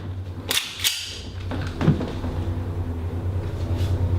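Two sharp gunshots crack at an outdoor shooting range, fired at a five pound note, sounding close and loud against a steady low rumbling background.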